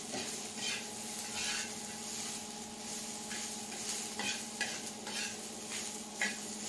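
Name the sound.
stirring green chili thecha in a pan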